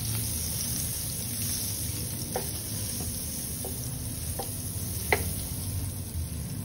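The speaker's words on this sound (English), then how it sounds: "I'm gonna add the butter." Butter melting and sizzling in a frying pan before garlic, cabbage and eggs go in, a steady soft frying hiss with a few faint scattered clicks and one sharper tap, no voices.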